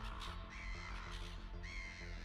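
Wild ravens caw repeatedly in a harsh, rhythmic series, loud and close, with no talking over them.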